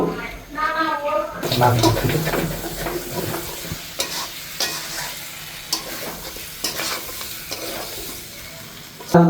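Goat meat is stir-fried in a pan, sizzling loudly with continuous scraping and stirring strokes, and a voice is heard briefly at the start.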